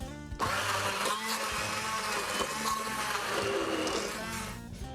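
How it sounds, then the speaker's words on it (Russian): Immersion blender whirs steadily through a soft mixture of salt, pepper and minced garlic, a loud continuous motor buzz lasting the whole stretch with no talking. "Теперь погруженным блендером все это взбиваю в одну мягкую, такую нежную массу."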